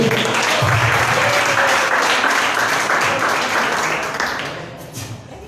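A church congregation applauds during a worship service, a dense, loud, sustained clapping that tapers off near the end.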